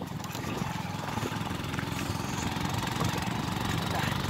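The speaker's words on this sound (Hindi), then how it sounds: "इस पर सचिन बाइक चला रहे" Motorcycle engine running steadily on a snowy mountain road near Bir Billing, a continuous mid-pitched drone throughout with faint voices underneath.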